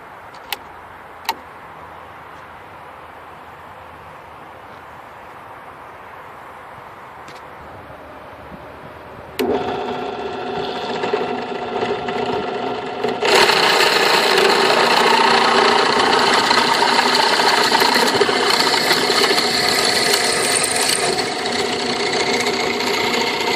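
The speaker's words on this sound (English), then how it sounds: "we're going to set this up on the drill press and drill out the hole" A drill press boring a hole with a 29/64 bit, apparently in a Ferguson TO30 tractor brake and axle part: a quiet start with a couple of clicks, then the motor whirs up and a louder, steady grinding cut follows, close by.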